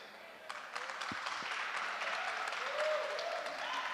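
Panel audience at a culture and arts forum claps hands, a soft, fairly distant spread of applause that builds slightly and holds steady, with a faint voice rising over it partway through.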